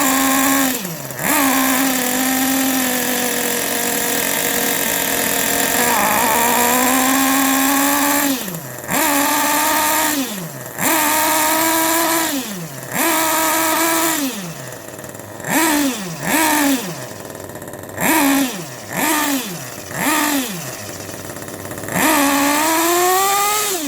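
The engine of a Kyosho Inferno Neo 3 RC car screams at high revs during break-in, close and loud, cutting out repeatedly into sharp drops and quick restarts with a rhythmic rise and fall of pitch.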